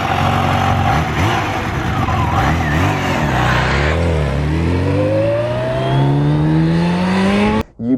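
A 240 bhp sportbike engine revs hard and accelerates, rising in pitch through several gear changes, loud and close before cutting off abruptly near the end.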